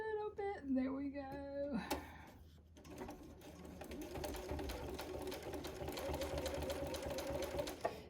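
A sewing machine fitted with a walking foot binds a quilt, starting with a few short whirring bursts before settling into a steady, close, rapid stitching clatter that runs to the end.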